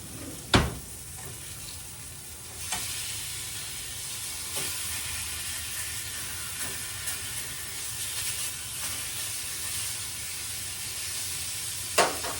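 Pork chops searing in a hot skillet give a steady, moderate sizzle and hiss, with a few sharp clinks of a fork or utensil against the pan.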